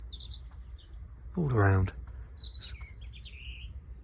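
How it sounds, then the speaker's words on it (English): Several robins sing high, thin warbling phrases at a distance throughout a quiet outdoor spot on the Isle of Wight, briefly interrupted by someone speaking close by. "There's a few robins singing"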